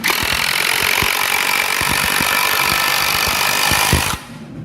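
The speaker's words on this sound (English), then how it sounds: "the impact drill makes sure that you can drill in really quickly" An impact drill whines loudly and steadily with rapid hammering knocks as it bores into wood, then cuts off abruptly near the end.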